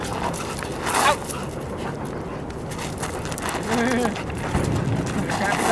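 A wildlife detection dog candidate whimpers and gives a few short barks and yips during an outdoor evaluation, its sounds mixed with a voice talking and praising it throughout.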